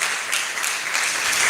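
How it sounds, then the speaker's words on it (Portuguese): A church congregation claps their hands for Jesus during a service, a dense continuous burst of many hands applauding together, bright and steady throughout. "batem palma para Jesus"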